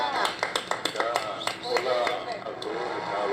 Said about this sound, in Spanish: Aplauso, otra vez.